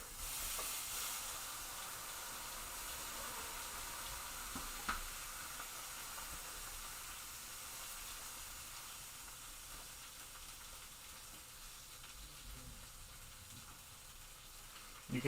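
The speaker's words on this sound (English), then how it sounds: "Oh, you just hear this boiling over." A pot of chow mein noodles boiling over on the stove, a steady bubbling hiss and sizzle of water spilling onto the hot surface, continuous and fairly quiet with no talking.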